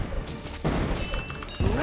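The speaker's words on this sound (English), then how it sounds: "Tier 3 artillery." A tier 3 artillery tower firing in the strategy game Kingdom Rush: Frontiers, with booming blasts and explosions, a few heavy thuds in quick succession amid busy game effects.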